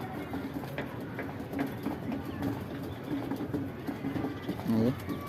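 Shahjahanpuri pigeons in a loft giving low, repeated throaty coos at a moderate distance, with someone talking over them.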